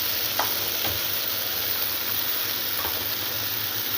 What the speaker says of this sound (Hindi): चलो जी, अब मैं डाल देती हूँ आलू।